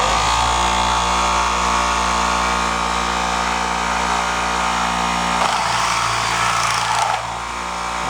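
A Maimin cutting machine runs steadily on a pad, a close, loud continuous motor drone with mechanical rattle and a brief shift in tone near the end.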